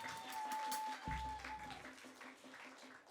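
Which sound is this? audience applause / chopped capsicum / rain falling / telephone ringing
audience applause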